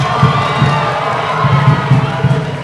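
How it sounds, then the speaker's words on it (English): A crowd at a Pasifika student union luau cheers and shouts after a Samoan performance, a loud dense roar with excited voices. "another round of applause for the island of Samoa"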